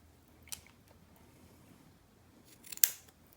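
Scissors snip cotton wick for a vape RDA rebuildable atomizer, two crisp close cuts: a light snip near the start and a louder, sharper cut near the end, with quiet handling between.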